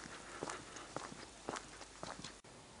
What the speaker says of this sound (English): it's pretty much just me and my footsteps